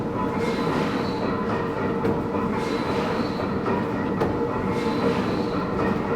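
A large antique Snow engine runs at the Buckley Old Engine Show with a continuous heavy mechanical rumble, broken by faint periodic clanks from its moving parts and cams.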